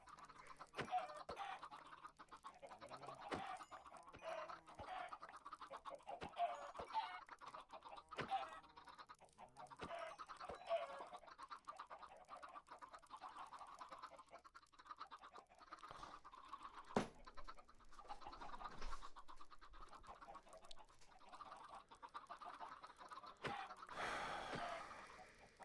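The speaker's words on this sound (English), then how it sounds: "so many chickens running" Minecraft chickens cluck faintly and repeatedly as they scurry about, soft intermittent clucks with small clicky game sounds scattered throughout.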